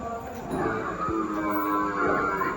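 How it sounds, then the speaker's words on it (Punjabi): Murrah breed buffaloes on a farm give a drawn-out, low mooing call that swells and holds for a couple of seconds, close by over steady farmyard background noise. "ਇਹ ਵੀ ਚੰਗੀ ਬਰੀਡ ਦੀਆਂ ਮੱਝਾਂ ਰੱਖਦੇ ਨੇ ਜ਼ਿਆਦਾਤਰ ਮੋਹਰਾ ਨਸਲ ਦੀਆਂ ਮੱਝਾਂ"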